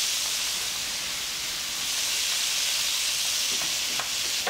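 Peppers sizzle and fry steadily in a hot pan in a home kitchen, a dense, even hiss that holds close and loud throughout with a few faint clinks near the end.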